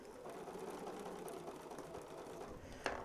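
Sewing machine running steadily with automatic needle-down stitching, a continuous mechanical whir for the full length with a brief louder clack near the end.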